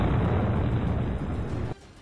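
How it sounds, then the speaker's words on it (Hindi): An explosion in war footage from the Russia–Ukraine conflict: a loud, sustained roaring blast that rumbles for about a second and a half, then cuts abruptly to a quieter background. "तभी उसके सामने एक और धमाका हुआ और चारों तरफ धुएं का गुबार छा गया"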